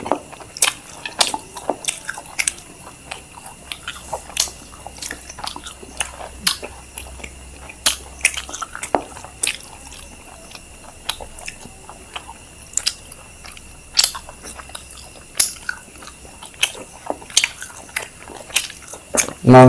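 Close-up wet chewing and biting of luchi with spicy chicken curry, with irregular smacking, squishy clicks and soft crunches repeating steadily throughout.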